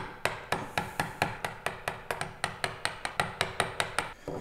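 A wood chisel struck with a mallet into end grain while chopping a through mortice by hand: about twenty light, evenly spaced taps, close and crisp, with no talking.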